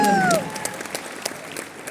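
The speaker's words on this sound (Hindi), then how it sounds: "पहले ताली ही बजा दीजिए" Audience at a DXN business meeting in Jodhpur, Rajasthan, clapping in scattered, thinning applause after a short voice at the start.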